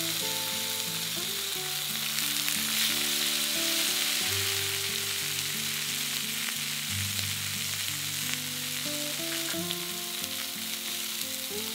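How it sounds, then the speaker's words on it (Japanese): Tomato slices sizzle and hiss in a frying pan beside pork, a steady close crackle under soft background music. "空いているところにトマトを入れます。"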